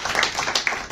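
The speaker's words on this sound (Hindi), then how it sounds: "तो उनका भी तालियों से स्वागत तो हो गया।" An audience claps in welcome for a special guest at a Bansari Group programme, a short burst of scattered, uneven hand claps from a moderate distance with no talking over it.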